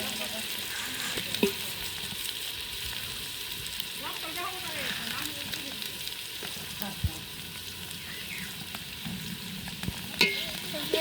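Spices and cumin leaves frying in hot oil, a steady close sizzle with repeated stirring scrapes and occasional clinks, a voice speaking briefly in the middle.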